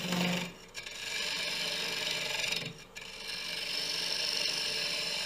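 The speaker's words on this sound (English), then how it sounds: "I'm going to start and make a bevel supported cut." A woodturning gouge makes a bevel-supported cut into the side of a koa crotch bowl on a lathe. It produces a steady, close scraping rasp that runs almost continuously, with a brief dip near the middle.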